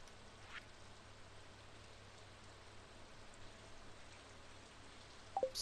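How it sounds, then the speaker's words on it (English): Steady hiss of rain in Stardew Valley falling on a surface, constant and even throughout, with a brief sharp chime near the end. "Is it raining? Yes,"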